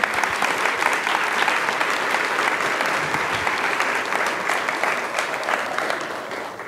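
A large audience bursts into steady, loud applause at an astronaut chat event, the clapping holding dense and even from start to finish before easing slightly toward the end, with no voices over it.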